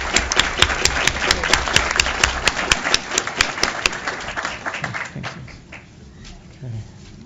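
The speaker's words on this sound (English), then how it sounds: "So if we could have just a round of applause for them all" Audience applause for a panel at a spectrum policy workshop, a steady rhythmic patter of clapping from a moderate crowd that thins out and fades toward the end.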